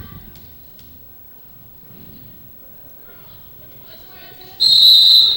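A referee's whistle at a girls' high school basketball game sounds one loud, sharp blast near the end, after quieter court noise and a commentator's voice.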